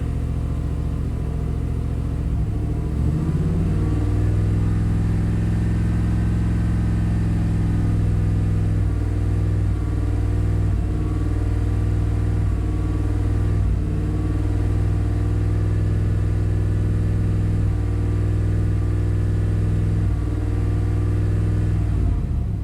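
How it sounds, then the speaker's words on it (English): A classic Chevy engine with a rough, negative-learning fuel trim idles low and steady, then takes a little throttle and holds a raised, droning rumble with slight unsteady surges, loud and close without any talking. "Give it a little throttle. See how it does."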